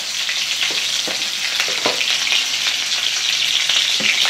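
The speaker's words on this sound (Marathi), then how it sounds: "तेल तापलेलंच आहे, त्यावर जिरे टाकू, मिरच्या टाकून घेतल्या" Cumin seeds and green chillies sizzle and crackle in hot oil in a pan. A close, steady hiss is broken by sharp spatters, and no one talks.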